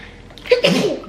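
A single sharp sneeze, close and fairly loud, preceded by a quick inhale.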